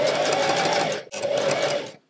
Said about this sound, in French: Et on vient coudre tout doucement en s'appliquant.